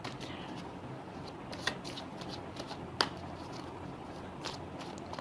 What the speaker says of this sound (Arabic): انا عمال افرط لكم الورق قوي عشان تطلع حاجه حلوه كده